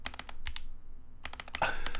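Keys clack on a Switch Couture Alice mechanical keyboard in quick uneven bursts, close and crisp, with a short pause before a faster run of typing.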